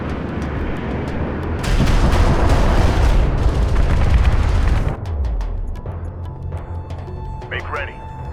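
Space battle in the game Homeworld: Deserts of Kharak, where an enemy cruiser is destroyed amid a loud, dense rumble of gunfire and explosions. The din cuts off abruptly, leaving lighter clicks and scattered game effects.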